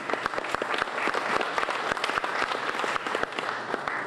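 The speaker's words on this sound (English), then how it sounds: "please give them another round of applause" An audience at a farm field day in Lonoke, Arkansas claps for legislators, a steady burst of dense applause throughout with no voices standing out.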